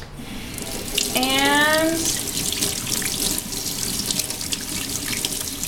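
Tap water runs steadily into a sink as a paintbrush is rinsed clean of suds, a close, continuous splashing flow, with a brief word spoken at the start.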